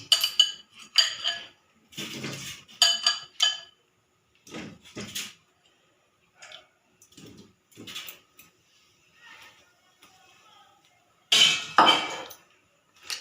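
Potatoes, about 400 grams, tumble into a pot already salted with roughly two spoons of salt, giving a run of irregular clinks and knocks against the metal with quiet pauses and a louder clatter near the end.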